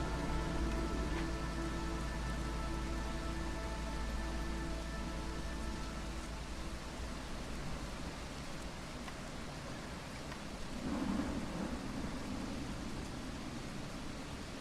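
Steady rain pours in the video game Against the Storm, a dense continuous hiss of rainfall, with a low rumble swelling near the end like distant thunder and no talk over it.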